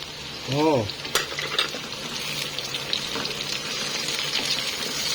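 Pork liver and tomatoes stir-fried together, a steady close sizzle with scraping and clattering stirring sounds, plus a brief tonal squeak early on.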